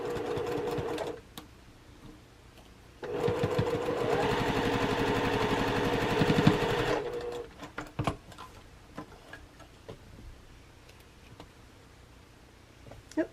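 A sewing machine stitches a nested seam on a quilt block, running in one steady, fairly loud burst for about four seconds between quieter handling sounds and small clicks.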